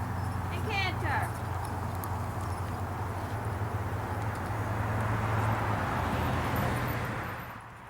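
Hooves of a show horse cantering with an even hunter pace in an equine evaluation arena, a steady rhythmic drumming that runs throughout, joined briefly near the start by a light jingling sound.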